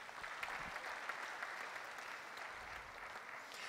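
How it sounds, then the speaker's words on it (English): A church congregation claps steadily and continuously during a Sunday service, a dense patter of many hands, moderately distant, with no voices over it. "Please give God a clap offering."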